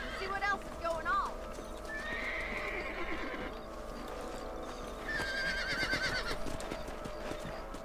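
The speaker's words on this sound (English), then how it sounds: "Let's get back on the horses and see what else is going on." Horses in the Red Dead Redemption video game clip-clop along at a steady pace and whinny twice, close and fairly loud over a low rumble of ambience, with voices speaking at times.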